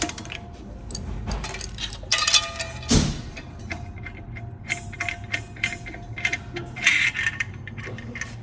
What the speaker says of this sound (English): We're gonna loosen the regulator and take it off.